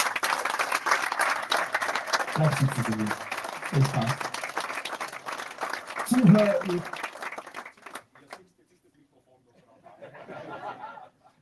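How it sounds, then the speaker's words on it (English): A press-conference audience at the X-Alps 2025 event claps continuously while a host's voice carries over it. The applause swells and dips for about eight seconds, stops abruptly, and a fainter patch of clapping follows after a short silence. "I'm calling out the names, and you simply clap all the way through"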